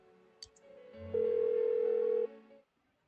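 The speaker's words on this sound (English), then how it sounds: "Why won't she pick up the phone?" Phone ringing unanswered in the game Persona 4 Golden, a steady electronic ring tone holding for about a second after a soft click and faint rising tones, then cutting off into silence.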